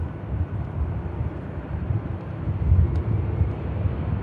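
Airliner taxiing at Manchester Airport, a steady low engine rumble with a broad roaring hiss, moderately loud and continuous with slight swells and some wind buffeting, no voices.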